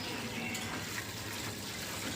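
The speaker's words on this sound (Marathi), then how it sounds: "तर हे तांदूळ की नाही आपण स्वच्छ तीन पाण्याने धुवून घेऊ" Rice grains being rinsed in clean water for soaking, a steady soft watery swish and slosh running throughout, fairly quiet and close, with no voices.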